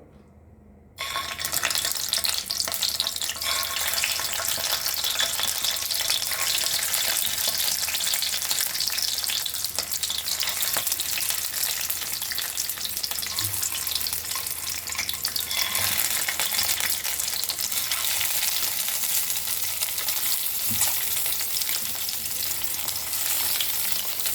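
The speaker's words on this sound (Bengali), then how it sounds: "ডিমগুলোকে এমনি শ্যালো ফ্রাই করে নেব" Eggs shallow-fry in a little hot oil in a wok, making a loud, dense, continuous sizzle that starts suddenly and holds steady throughout, with no speech.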